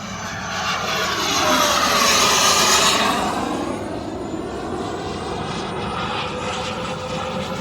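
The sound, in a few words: large RC model airplane flying past at high speed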